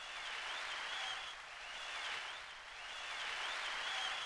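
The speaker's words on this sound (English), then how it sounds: "And there we have applause." An applause sound patch played on a Roland AX-7 keytar gives a faint, continuous synthetic wash of crowd clapping that swells and dips gently, heard alone without talk.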